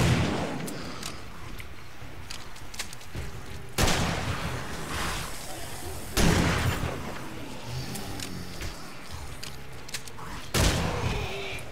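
Gunfire in the game 7 Days to Die, with loud double-shot blasts repeating at irregular intervals, each trailing off into a rumbling echo.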